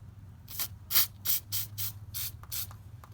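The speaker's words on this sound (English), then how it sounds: "we'll just spray some penetrating lubricant on there and just let it sit for a little bit" Short bursts of penetrating lubricant sprayed onto a rusty sway bar end link on a 2006–2011 Honda Civic, about seven close hissing squirts in an uneven rhythm over a low steady hum, with no talking.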